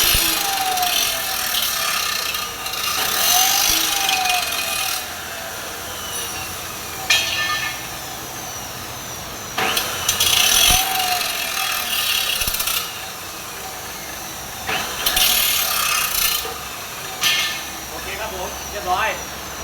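A car's metal fender edges are cut and trimmed with tools during bodywork repair, producing harsh bursts of grinding and scraping that repeat every few seconds, with squealing metallic tones and workshop noise between them.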